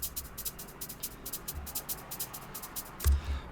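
A shaker plays a steady rhythmic pattern of crisp, bright shakes, alone and fairly quiet, with a low thump near the end.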